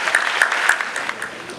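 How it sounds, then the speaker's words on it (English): Audience applause at a memorial anniversary lecture honoring Dr. Busia, a steady wash of many hands clapping together for under two seconds, fairly close and even in level. "let's also, with a round of applause, celebrate all like him who have departed into glory"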